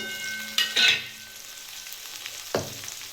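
Dry spices, ginger, cumin powder and chilli powder, drop into a hot frying pan while cooking elephant foot yam with fish. Two sharp bursts of sizzling stand out over a quieter steady frying background.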